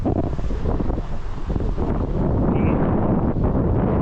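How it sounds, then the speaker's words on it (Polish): Strong wind on the island of Koh Phangan, Thailand, buffets the microphone in a constant low roar, loud and rumbling throughout with no talking. "dzisiaj tutaj na przykład jest bardzo wietrznie"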